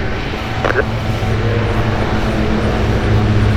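A light aircraft arriving at Oshkosh during EAA AirVenture 2018 drones steadily with a constant engine hum, landing parallel on the right side of the runway, while a voice talks over it.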